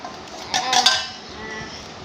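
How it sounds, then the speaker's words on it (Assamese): A kitchen knife chops vegetables for a bhaji fry, giving three quick, close, crisp strikes in a short burst with no talking. "মই ভাজিকণ কুটি লওঁ"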